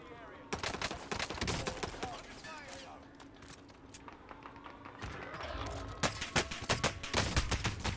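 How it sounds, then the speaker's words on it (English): Rapid video game gunfire in a Fortnite-style Rebirth match, bursts of sharp shots crackling at varying distances with a pause mid-clip, then heavy close volleys toward the end, under game ambience and occasional faint voice. "Why am I getting shot from everywhere, dude?"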